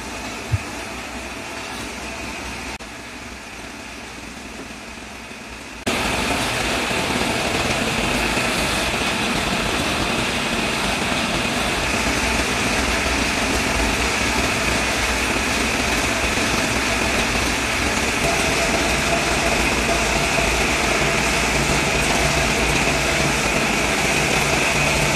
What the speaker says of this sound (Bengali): এবার দেখুন, মার্বেল ফ্লোরিংয়ের মেন বডি ঘষা চলছে।